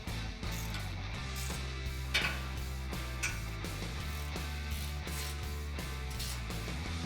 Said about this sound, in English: Using a 13mm wrench, tighten down the bolts holding this bracket to your Bull Bar.